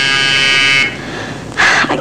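A doorbell buzzer sounds for a delivery: a harsh, loud, close electric buzz holds for almost a second, then a second shorter buzz follows after a brief pause.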